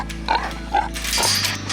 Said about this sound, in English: What you doing, Pig?